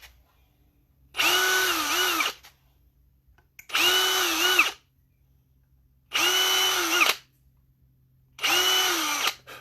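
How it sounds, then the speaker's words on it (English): A handheld cordless drill boring into a workpiece in four even bursts of about a second each, separated by quiet pauses, close and fairly loud, with a steady motor whine in each burst. "that's something you can only do with a handheld cordless drill"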